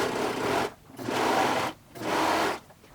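A serger stitches around curved, circular fabric in three whirring motor bursts separated by short pauses, close and clear with no voices.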